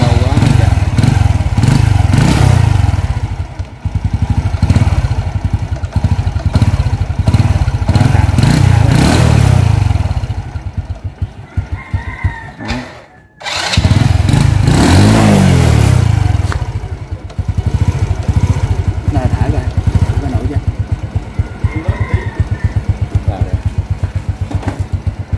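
A Wave ZX motorcycle engine runs steadily and loudly close by, with a rumbling idle that briefly cuts out near the middle before starting again, while people talk over it.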